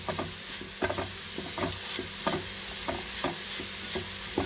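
A spoon stirs a melting sweet filling mixture in a pan over a medium flame, making rhythmic scraping strokes about every half second over a soft, constant sizzle, close up with no talking.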